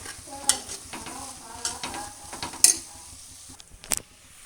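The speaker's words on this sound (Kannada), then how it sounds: "ಈಗ ಇದನ್ನು ಮಿಕ್ಸ್ ಮಾಡ್ಕೊಳ್ಬೇಕು." A spoon stirs veg pulao rice with cut lemon in a pan, soft scraping and sizzling with several sharp metallic clinks against the pan, close and steady without talk.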